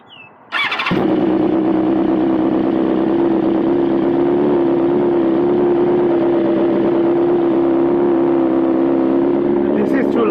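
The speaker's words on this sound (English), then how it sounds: "Full system with the appropriate headers and also the appropriate titanium slip-on." A BMW S1000RR sport bike with a full titanium exhaust system, headers and slip-on, fires up after a brief pause and holds a loud, steady, close roar for the rest of the clip.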